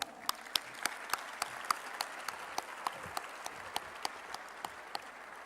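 Scattered audience applause at a scientific symposium, sharp individual claps rising above a soft room hum in an irregular, moderately paced rhythm, fairly quiet and without speech.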